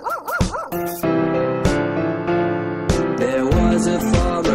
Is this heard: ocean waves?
no